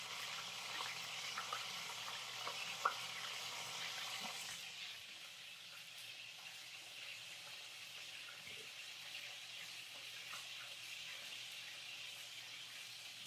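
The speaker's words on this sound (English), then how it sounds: "I'm just trying to get a sear on it." A whole chicken sears in a hot pan for a roast, giving a steady, quiet sizzle and crackle with a few faint clinks and a slight drop in level partway through.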